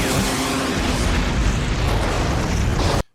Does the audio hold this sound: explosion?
yes